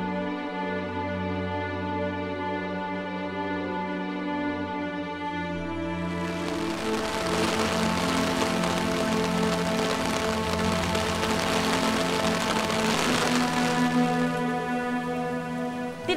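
Rain falls steadily near a mangrove coast in Ambon, Indonesia, a dense continuous hiss that swells louder partway through over a low droning hum.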